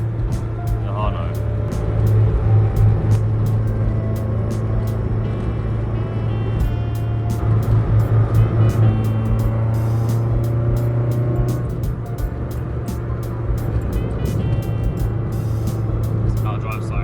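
A Toyota AE86 is driven along a highway in a video game, its engine giving a steady, sustained drone with a constant low hum and slight shifts in pitch throughout.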